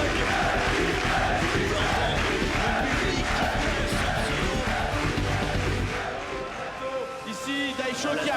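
A large crowd at a live esports event in Mexico roars and chants continuously, loud and dense, easing off near the end with voices still audible.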